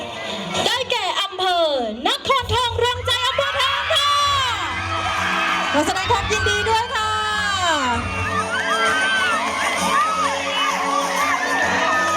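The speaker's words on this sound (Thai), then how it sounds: "ส่งเสียงดังๆเสียงเชียร์ดังๆได้เลยนะคะ" A large crowd cheers loudly at a retro ramwong dance contest final prize-giving, full of shrill shouts and whoops from many voices, sustained without a break.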